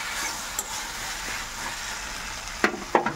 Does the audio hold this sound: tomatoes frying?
yes